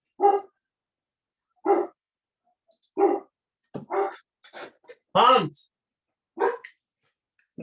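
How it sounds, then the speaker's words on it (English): A pet dog barks at someone in short separate bursts, loud and close, with a person talking nearby between the barks. "My dog is barking at someone."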